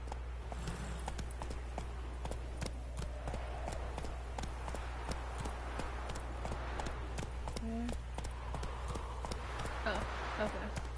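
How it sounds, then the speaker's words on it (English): Horse hooves clip-clopping at a steady trot in The Witcher video game, with regular rhythmic hoofbeats at moderate level beneath game ambience and a voice talking over the top. "Come on, Roach. Slow now. Whoa"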